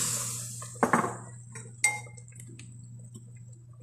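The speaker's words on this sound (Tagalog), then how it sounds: "I put the patatas." Potatoes drop into a metal cooking pot with two sharp clanks and clinks, close and fairly loud over a steady low hum.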